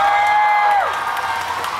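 A concert audience at an outdoor music festival applauds and screams for the singer: a long high cry holds and then falls away over a dense, loud wash of crowd noise.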